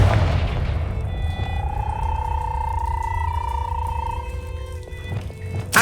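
Confringo spell cast in the video game Hogwarts Legacy: a deep booming blast with a sustained whooshing tone that swells and holds for a few seconds, then fades into a second low thump.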